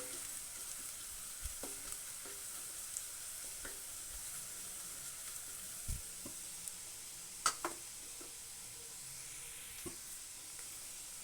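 Cauliflower for gobi pepper dry fries in a pan with a soft, steady sizzle, broken by occasional clinks and scrapes from stirring, heard close and fairly quiet with no talking.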